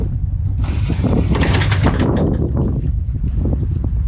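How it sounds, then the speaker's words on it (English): A boat's anchor windlass grinds and clanks for several seconds, uneven and rough, with a fault audible in it, and rushing wind or water noise around it. "if you listen close, the windlass doesn't sound quite right"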